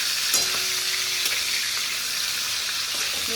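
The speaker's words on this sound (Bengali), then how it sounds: "চিংড়ি মাছ হালকা করে ভেজে নেব" Prawns sizzle steadily in hot oil in a pan over a medium flame, a close continuous frying hiss with a few light scrapes and clicks, and no voices.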